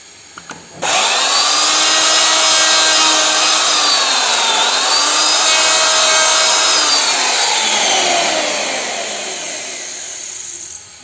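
A power tool cuts into wood to recess a door hinge, a loud continuous whine that dips and rises in pitch as the load changes, then tapers off toward the end, with no talk.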